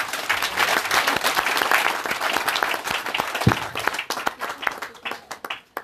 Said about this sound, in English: clap hand for Jesus?